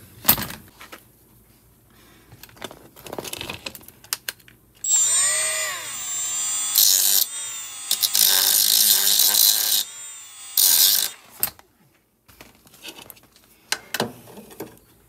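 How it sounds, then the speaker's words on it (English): A tool cuts a flathead slot into a rusted screw near the trim of an abandoned 1974 Ford F250 Custom with a 390 V8: a loud, high whining grind in several long bursts, framed by quieter clicks and handling noises. "if maybe I can cut a little flathead strip in there without trying not to cut the trim."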